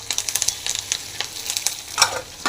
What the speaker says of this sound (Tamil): பூண்டியும் போட்டு நல்லா ஃப்ரை பண்ணிக்கலாம்